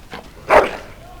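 A dog in the Dragon Age Origins video game gives a short whimpering yelp, one brief nasal cry rising out of quiet background sound.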